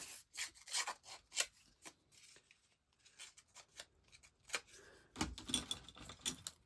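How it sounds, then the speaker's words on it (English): Scissors snipping a small piece off a paper sketch, a few soft irregular crisp cuts and rustles, close and fairly quiet, with brief pauses between them. "so I'm going to cut a little piece off"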